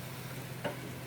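Butternut squash with other vegetables fries in a pan, a soft steady sizzle with one faint tick, low and close, with no talk.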